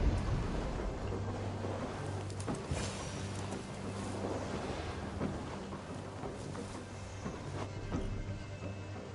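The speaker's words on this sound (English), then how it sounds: "What's all that thunder about?" Low, continuous rumble of thunder rolling through a stormy scene in Assassin's Creed Valhalla, a steady deep roar with faint swells, no voices over it.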